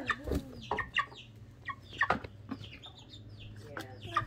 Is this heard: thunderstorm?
no